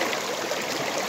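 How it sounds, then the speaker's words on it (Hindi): A village stream in Meghalaya runs in a steady, close rush of flowing water, an even broadband wash with no voices. "बहुत पानी आ रहा है, देखिए कैसा लग रहा है"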